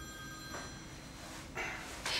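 A mobile phone rings in short electronic bursts, fairly faint, during an ultrasound scan, over a steady tonal hum from the medical equipment in a quiet room.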